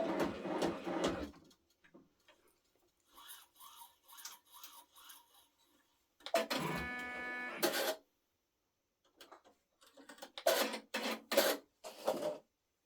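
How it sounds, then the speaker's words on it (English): A multi-needle embroidery machine runs its threading cycle, with bursts of whirring motor noise and mechanical clicking separated by near silence, close and moderately quiet. "now I'm going to go ahead and thread my needles"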